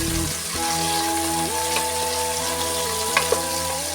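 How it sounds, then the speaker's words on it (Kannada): Onion and capsicum sauté in a pan for vegetable pulao, a steady close sizzle of frying running throughout, with a few brief clinks and scrapes of stirring breaking through. "ಇವಾಗ ಇದನ್ನು ಒಂದು 5 ನಿಮಿಷ ಹಿಂಗೆ ಬಾಡಿಸ್ಕೊತೀನಿ."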